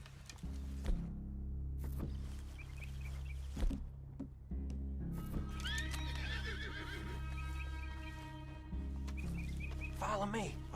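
Horses snort and whinny with scattered hoof clops in the Western video game Red Dead Redemption, heard faintly over a low droning backdrop with occasional speech and bird chirps.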